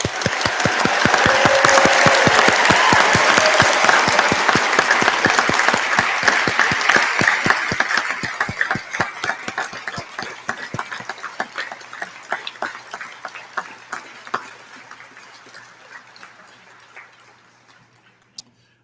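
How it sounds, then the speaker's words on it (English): A convocation audience applauds graduates of the College of Arts in a large hall, loud sustained clapping that gradually thins and fades into scattered claps over nearly twenty seconds. "We may now applaud for these graduates."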